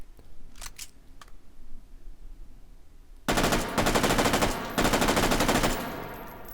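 A FAMAS rifle with an Aimpoint sight fired in a VR video game: a few faint handling clicks, then loud, very rapid full-auto bursts with short gaps between them.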